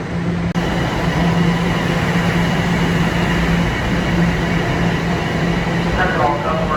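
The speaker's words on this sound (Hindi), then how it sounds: "ये वाली ट्रेन अब चली गई है" A subway train pulls out of the station with a loud, continuous rumble and roar close by, the sound holding steady throughout.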